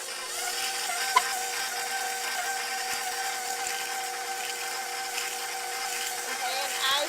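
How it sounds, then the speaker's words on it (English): A stand mixer starts up slowly, creaming butter with brown sugar, giving a steady whirring motor hum that holds evenly throughout at moderate loudness. "you are going to turn your mixer on slowly"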